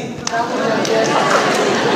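Audience at a youth Easter church service stamping their feet together, a loud, dense rumble of thuds mixed with some chatter, sustained across the whole moment.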